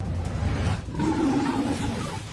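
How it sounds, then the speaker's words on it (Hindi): A loud, close tiger roar on a road in Mathura, Uttar Pradesh, rising and sustained for about two seconds over a low rumble, with no talk. "जैसे ही वो बाघ को क्रॉस करता है, बाघ अटैक कर देता है।"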